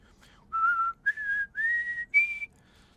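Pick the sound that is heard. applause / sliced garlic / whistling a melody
whistling a melody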